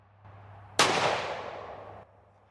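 A single rifle shot from a Bergara Crest Carbon chambered in 7 PRC, fired outdoors during hunting-load accuracy testing: one sharp, loud crack with a decaying blast tail of about a second over a low hum, no talking.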